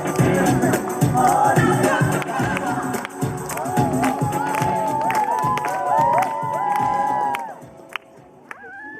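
A children's audience at a summer camp show program cheers and shouts, loud and crowded, with whoops and rising calls, then fades near the end to a few isolated sharp sounds.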